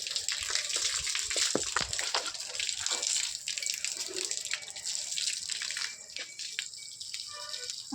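Water splashing and running steadily while a motorbike and bicycle are washed, a continuous hiss of spray with scattered drips and sloshes, fairly close.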